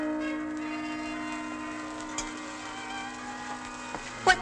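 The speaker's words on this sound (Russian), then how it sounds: "Зачем звонят в колокол?" A large bell rings with a long, sustained humming tone that lingers and decays, heard from a distance with a few faint knocks near the end.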